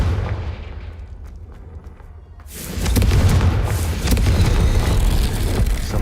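The Confringo fire spell from the game Hogwarts Legacy goes off with a loud, sudden burst partway through, cutting in over low rumbling game ambience and leaving a dense, roaring blast that carries to the end; no talking.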